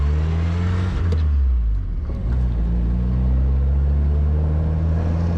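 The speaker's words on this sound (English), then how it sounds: "That little motor purrs nicely." A 1969 MG Midget's small engine hums steadily with a low, even drone while driving, loud and continuous, with a slight dip in pitch near the middle.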